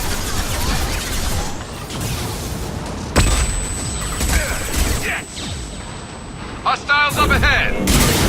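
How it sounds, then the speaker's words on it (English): Flashbang grenades going off in a Mass Effect 2 firefight, a sharp blast with a lingering high ringing tone, followed by further bursts and crackling amid loud combat noise. "Watch out, flashbangs!"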